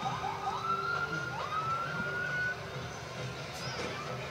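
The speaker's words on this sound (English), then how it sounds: "That'd be the paddy wagon" A police paddy wagon siren wails at a harvest parade, its rising and falling tone sweeping clearly for a couple of seconds over crowd noise, then fading as faint street bustle continues.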